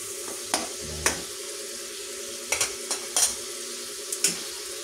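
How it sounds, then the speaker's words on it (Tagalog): Ground pork being stirred and browned in a pan for a stir-fry of chayote and cabbage, with a steady sizzle under scattered scrapes and clinks of the spoon against the pan. "Yan po ay ating halo-halo para pumula yung ating giniling."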